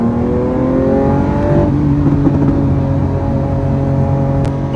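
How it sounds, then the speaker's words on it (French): A loud Lamborghini engine accelerating on a motorway, its pitch climbing to a shift around the middle before settling into a sustained roar at speed, close and steady. "maintenant cette voiture fait trop de bruit"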